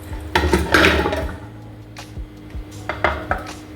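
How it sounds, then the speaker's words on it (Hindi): Heavy mutton trotters drop and clatter into a metal pressure cooker, a burst of clunks followed by a few scattered knocks against the metal. "ये मैंने कुकर ले लिया है, इसमें हम सबसे पहले पाई डालेंगे।"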